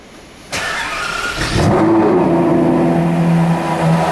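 An 1980 Ferrari engine cranks and catches, then settles into a loud, steady idle close by.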